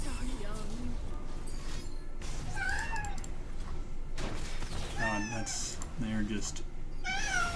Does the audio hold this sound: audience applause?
no